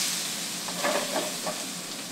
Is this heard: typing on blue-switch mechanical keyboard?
no